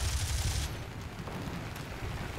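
Machine guns on a CR.42 Falco biplane rattle in War Thunder, a fast rapid burst in the first moment, then dropping to a quieter engine and battle background.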